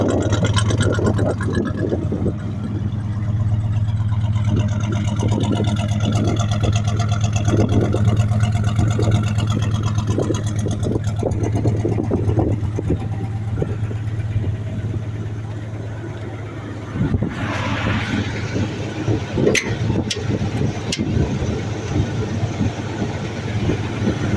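Engine of a 1973 Chevy C10 pickup truck idling fast on the choke, a steady loud low rumble with a constant hum throughout.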